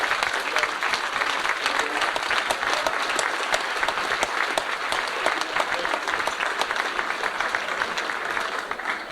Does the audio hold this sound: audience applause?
yes